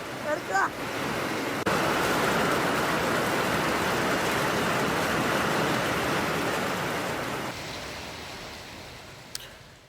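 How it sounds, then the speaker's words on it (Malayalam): Heavy evening rain pours down over Kasaragod district in Kerala, where rising water floods a road under national highway widening work. A steady, dense roar of rainfall fills the scene with no voices, briefly shifting near the start and toward the end. "ഇന്ന് വൈകിട്ട് മുതൽ ശക്തമായ മഴയാണ് കാസർഗോഡ് ജില്ലയിൽ ലഭിക്കുന്നത്"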